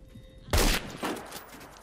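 A sharp, loud Remington 700 rifle gunshot in the video game Phantom Forces rings out, followed by a second softer shot about half a second later.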